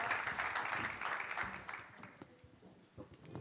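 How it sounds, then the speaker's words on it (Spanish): An audience applauds at a panel debate on climate change and tourism, a dense broadband wash of clapping that is loud at first and thins out toward the end. "Os pido un fuerte aplauso para ellos"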